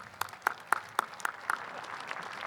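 Scattered applause at the Torrance Armed Forces Day Parade greeting a California Air National Guard brigadier general, a thin run of sharp claps from a small crowd, heard outdoors at moderate distance with no talk.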